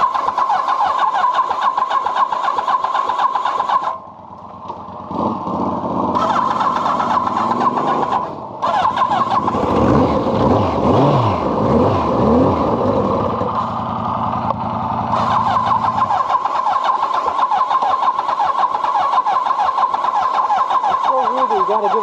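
A 40-year-old motorcycle engine cranks with a rapid grinding starter, catches and revs unevenly under throttle, then keeps cranking and running in loud, close bursts for over twenty seconds.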